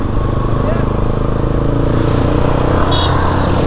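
Vehicles race past on a road, with a loud, steady rumble of car and motorcycle engines close by and voices talking over the traffic noise.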